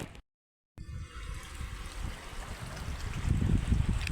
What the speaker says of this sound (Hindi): यहाँ का पानी का बहाव भी तेज है।